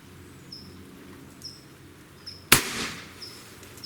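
One loud, sharp shot from an AEA Harpoon air shotgun, near and sudden against a quiet background, followed by a brief decaying tail; faint insect-like chirps sit in the background.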